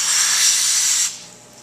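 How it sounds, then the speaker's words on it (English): A Rothenberger Freeze-Pak freeze spray hisses into foam packed around a pipe, a loud close steady jet that cuts off sharply after about a second, leaving faint residual hiss. "You got a hole right here that I can spray my freezing mist in"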